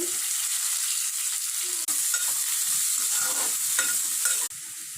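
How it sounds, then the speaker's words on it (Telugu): Onions frying in oil in a pan for a chicken curry, giving a steady, close hiss of sizzling with light scraping and stirring sounds throughout, briefly interrupted twice, with no voices. "ఫస్ట్ ఆయిల్ వేసుకోండి. ఉల్లిపాయలు వేసుకోండి."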